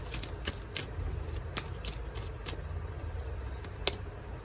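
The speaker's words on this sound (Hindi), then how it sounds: "I will pull out 2 more cards" Tarot cards are drawn and shuffled from a deck in a repeated series of soft, brief papery flicks and slides. They sound close and quiet over a faint background hiss, with no voices.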